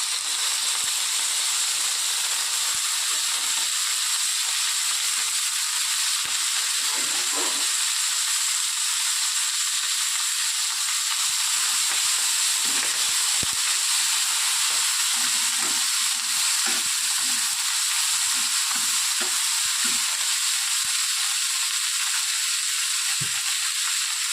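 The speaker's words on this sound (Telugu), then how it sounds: "ఇప్పుడు మనం క్లీన్ చేసి పెట్టుకున్నటువంటి మెంతి కూరను ఇందులోనికి వేసేసుకోవాలి." Fenugreek leaves fry in hot oil in a pan for a methi chutney, giving a constant bright sizzle with scattered crackles and pops throughout and no talking.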